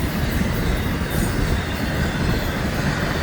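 An FEC freight train passes close by in Fort Lauderdale, a loud, steady roar of wheels and rolling rail cars filling the whole stretch, with no voices over it.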